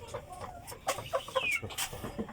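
A mother hen clucks softly in a series of short, uneven calls, close by with faint background noise and no talking.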